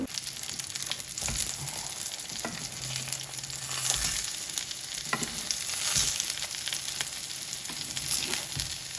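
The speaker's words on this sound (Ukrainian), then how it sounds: "Як помідори підсмажують до золотистої шкіринки і можна їх виймати" Tomatoes coated in batter fry in a pan with a steady, dense sizzle and crackle, rising and falling slightly over several seconds, close and without voices.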